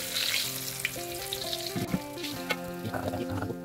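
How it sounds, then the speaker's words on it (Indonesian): Tempeh sizzles and crackles steadily as it fries in a pan, close and continuous, with a faint melodic tone running underneath. "Sekarang kita goreng sisanya."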